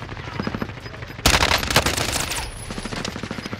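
Machine gun fire in the shooter game Warzone: rapid repeated shots, then a sudden loud, dense burst of automatic fire that tapers back into quicker, lighter bursts.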